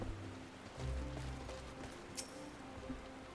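Rain falls in Final Fantasy XIV as a faint, steady patter and hiss of drops, quiet throughout with a few soft low thumps.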